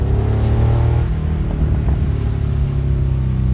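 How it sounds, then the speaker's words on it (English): A 1980 Porsche 911 SC Safari with a 915 gearbox, over 300 horsepower and an aftermarket exhaust drives along, its engine a loud, steady rumbling drone from inside the car, with no talk over it. "I'm assuming there's an aftermarket exhaust because it sounds fantastic."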